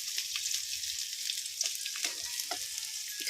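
Onions frying in oil for noodles, a soft steady sizzle with scattered light stirring clicks and scrapes, close and fairly quiet with no talk.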